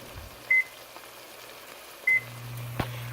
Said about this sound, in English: I'm going to go ahead and start the oven now and pre-warm it